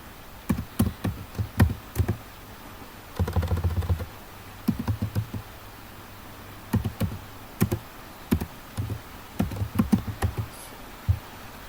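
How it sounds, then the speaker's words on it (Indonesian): Typing on a computer keyboard: quiet, close clusters of crisp key taps in irregular bursts separated by short pauses, with no talk. "Di sini akan diketik"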